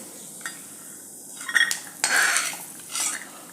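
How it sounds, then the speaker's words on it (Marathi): A spoon stirs cashews and raisins in a pan, sautéing them as part of a jaggery rice kheer. Scattered metallic scrapes and clinks come up close over a soft, quiet background. "काजू आणि सारुळे घातले ते थोडंसं परतून घ्यायचं आहे"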